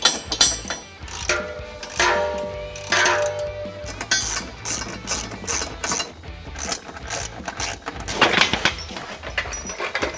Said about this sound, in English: you may want to use your 19mm socket to tighten them snugly